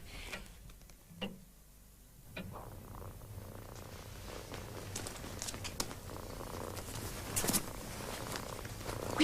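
A cat purring, a quiet, steady low rumble close by with soft ticking and faint rustles, no voices.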